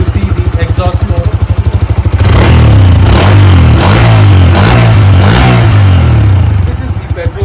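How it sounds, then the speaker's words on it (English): Close, loud exhaust of a Bajaj Freedom 125 CNG motorcycle running on petrol. A pulsing idle gives way to several sharp rev blips that rise and fall. "this is the petrol exhaust mode."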